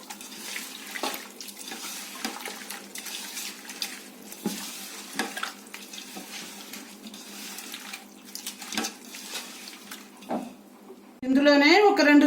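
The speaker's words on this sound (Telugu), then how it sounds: "ఇప్పుడు మొత్తం మ్యాగ్నేట్ చేసుకుందాము, కలుపుకుందాము" Chicken with yogurt and lemon juice being stirred and mixed by hand for a dum biryani marinade, soft wet squelching and scraping in a bowl, with a brief louder clatter near the end.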